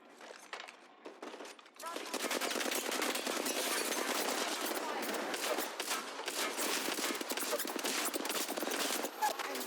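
Rapid automatic gunfire in a video game, a few scattered shots, then dense continuous bursts that run loud to the end.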